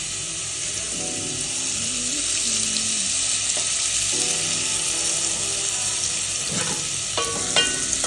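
Green chillies and tomato fry in oil in a pan for gongura curry, with a steady loud sizzle and occasional scraping of a stirring spoon.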